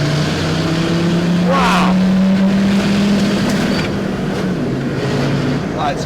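A Land Rover Td5 diesel engine pulls hard in second gear with a sustained, steady drone and rising tone, and a voice calls out briefly over it.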